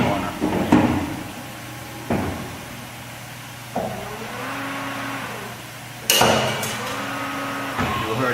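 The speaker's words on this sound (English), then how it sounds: "we turn the hydraulic on, and we can make the corner" An Edgemaster hydraulic machine runs with a steady hum while forming a corner, punctuated by several sharp clunks and an internal click, moderately loud and close.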